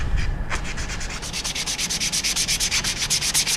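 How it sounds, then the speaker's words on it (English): Sandpaper rubbed by hand along the grain of wood in final sanding to remove swirl marks, a fast regular back-and-forth scratching of about five strokes per second, close and crisp with no talk. "take your sandpaper one last time and go with the grain"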